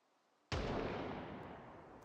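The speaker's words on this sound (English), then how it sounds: "He hears a gunshot off in the distance." A distant gunshot in the Project Zomboid video game, a single sudden boom from silence that rolls into a long, slowly fading rumble and echo.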